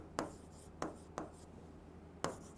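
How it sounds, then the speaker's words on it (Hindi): Marker or chalk strokes on a classroom board during a chemistry lesson, four short scratchy writing strokes spaced unevenly, fairly close and quiet, with no talk. "देखो एक बार अच्छे से लिख देता हूँ"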